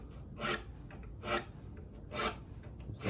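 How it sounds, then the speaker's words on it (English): Light strokes of a file across guitar frets, taking the burr off, in four evenly spaced raspy passes, close and clear with no talk. "when you file, you have to kind of go over the top of the fret like that"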